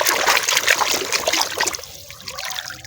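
Water trickles and splashes steadily onto a dirty toy monster car being washed, then tapers off near the end.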